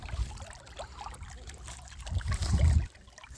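A small pool pump in a backyard chicken pool lifts water to the surface with a continuous bubbling churn. The low gurgle swells to a louder splashing surge near the end, then drops back.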